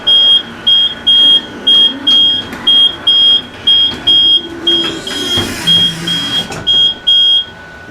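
A loud electronic machine alarm beeps in a rapid regular pattern, short high tones repeating about twice per second over faint engine rumble.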